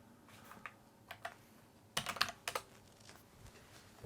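Light keyboard typing: a few scattered clicks, then a quick burst of keystrokes, close and fairly quiet.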